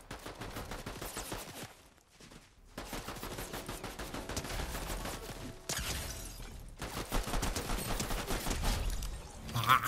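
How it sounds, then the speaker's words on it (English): Rapid gunfire from a video game sounds in dense, sustained automatic bursts, loud and close, broken by two short pauses. "I hear a lot of gunshots over here"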